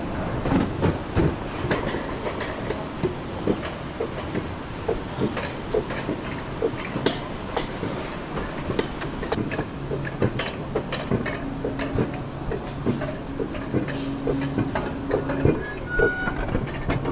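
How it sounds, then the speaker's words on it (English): Roller coaster car rattling along its track on a scenic ride down toward a waterfall, a steady clickety-clack of wheels over rail joints running throughout at close range, with faint tonal squeals in the second half. "Alright, we're doing a coaster down to the waterfall."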